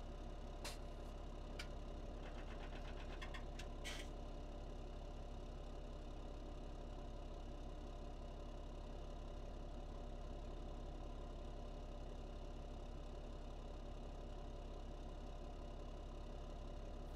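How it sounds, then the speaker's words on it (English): A tractor engine in Farming Simulator 17 idles steadily for the whole stretch, a constant low rumbling drone with a few faint clicks near the start and no talking. "That tractor sounds really good."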